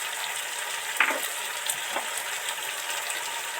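Spices sizzle steadily in hot oil for Bengali shukto, with cumin, coriander and chili powder going in: a constant bright frying hiss with a couple of soft clinks from the spoon.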